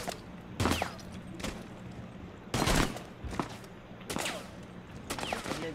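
Gunfire in Rainbow Six Siege, several loud bursts of shots spread across a few seconds with short gaps between them, close and dominant over a steady game background.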